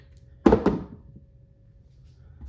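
Dice hit a tabletop in a board wargame, rolled for a heavy cruiser and a battleship: two quick close clatters, then a faint settling in an otherwise quiet room.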